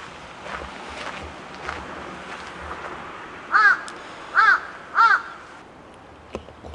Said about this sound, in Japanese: カラスがうるさいって